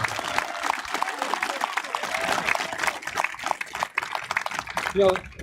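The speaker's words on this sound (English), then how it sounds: "Give those guys a round of applause right there." Crowd at a baseball field grand opening ceremony applauds two baseball players with steady, dense outdoor clapping and some crowd noise, and a voice breaks in at the end.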